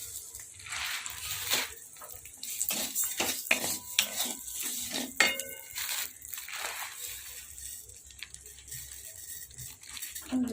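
A spoon scrapes and clinks irregularly against a pot while rice for payesh is stirred, soft and close, with faint wet patter.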